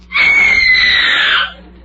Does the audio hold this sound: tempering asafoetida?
no